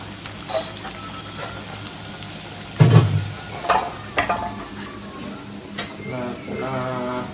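Vadas deep-frying and puffing in hot oil, a steady bubbling sizzle with a burst of louder crackling partway through and scattered utensil knocks, as a person speaks over the cooking.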